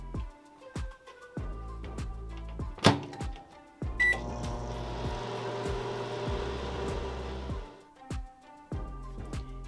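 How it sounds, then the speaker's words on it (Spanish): A microwave oven runs while baking coffee bread in a greased dish, with door clunks and button clicks, then a steady close hum for several seconds before stopping. "Lo metemos al microondas por 1 minuto 35 segundos."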